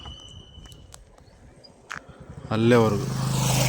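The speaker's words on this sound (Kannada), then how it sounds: "ಬೈಕ್ ಹೋಗುತ್ತೆ ನೋಡಿರಿ" A motorbike on a road beside rural farmland comes up out of quiet countryside, its engine swelling into a loud, close drone over the last second.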